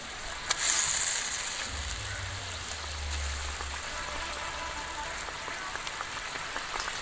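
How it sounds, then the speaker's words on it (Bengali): Water boils steadily in a pan for fish curry, a soft, even bubbling hiss close by with no talking. "জল এদিকে খুব ভালো করে ফুটে উঠেছে।"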